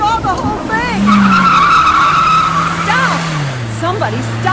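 A car skids with loud, wavering tire squeals that rise and fall over several seconds, mixed with a motor's drone and frantic shouting voices nearby, in a hit-and-run scene.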